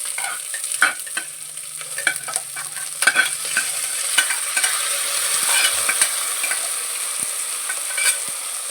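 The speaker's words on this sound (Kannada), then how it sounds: "ಬದನೆಕಾಯಿ, ತೊಗರಿಕಾಳು ಬೇಯಿಸಿರೋದು ಹಾಕ್ತಾಯಿದ್ದೀನಿ." Cooked brinjal and pigeon peas go into a pot for a traditional milk sambar, with a continuous scraping stir and a faint sizzle, close and fairly loud, with no talking.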